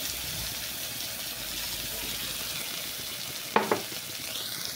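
Mustard paste goes into a hot pan for steamed hilsa fish and sizzles, a steady moderate frying hiss with a couple of brief clinks near the end.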